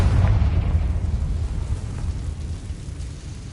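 The Confringo spell explodes in the video game Hogwarts Legacy as a deep, rumbling blast that is loudest at the start and then rolls off into a fading low roar, with no voices over it.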